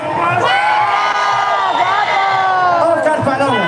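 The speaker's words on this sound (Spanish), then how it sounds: "grito fuerte." A loud crowd shouting and cheering together, sustained voices rising and falling close by for several seconds.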